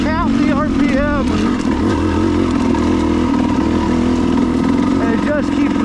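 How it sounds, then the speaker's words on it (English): A motorcycle engine fitted with an RK TEK head lugs uphill in second gear at low speed, a loud, steady rumbling thump with audible firing pulses, while a voice talks over it. "just listen to this motor. I mean, you can almost count the RPM"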